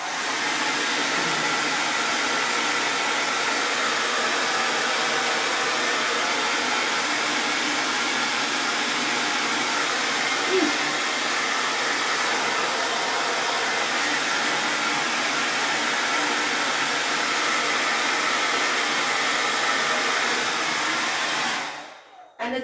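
Heat gun or hair dryer warming a craft piece lighter than wood that has just been glued with wood glue, a steady loud whooshing blow running nearly twenty-two seconds alone before cutting off.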